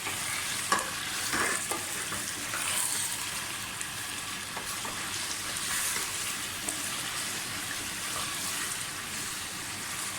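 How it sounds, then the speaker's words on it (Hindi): Chicken pieces frying in a pot for a degi-style chicken qorma, with a steady broad sizzle and occasional stirring scrapes running unbroken for about ten seconds, fairly close and with no talk. "तकरीबन 5 मिनट हो गए मुझे चिकन भूनते हुए, कलर चेंज हो गया है चिकन का।"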